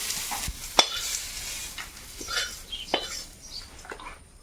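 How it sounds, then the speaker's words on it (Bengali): Khichuri bubbles in a pan while a spoon stirs it, giving soft irregular scrapes and a few sharp knocks against the pan over a faint sizzle, close and moderately loud. "খিচুড়িটাকে আর একটু ফুটিয়ে নেব"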